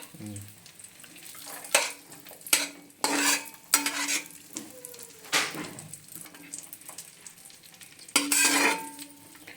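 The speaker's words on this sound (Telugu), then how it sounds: "నెయ్యిలో వేయించుకోవాలి" Raisins and cashews frying in ghee for carrot halwa, stirred with a spoon: bursts of sizzling and scraping come and go with each stir, set over a soft steady frying hiss.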